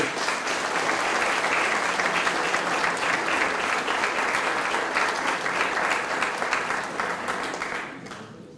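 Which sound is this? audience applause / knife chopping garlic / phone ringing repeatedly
audience applause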